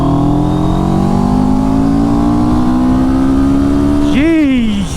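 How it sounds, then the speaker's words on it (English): CFMoto CLX Heritage motorcycle engine held above 4000 RPM, a loud close steady drone that climbs slowly in pitch, then a sharp rev blip and drop at the end. "Over 4000 it's kind of like this."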